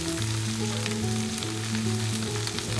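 Green chilies drop into a frying pan of chicken chow mein, giving a steady, loud sizzle that fills the clip from start to finish with no talking.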